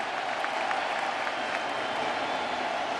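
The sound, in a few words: baseball stadium crowd cheering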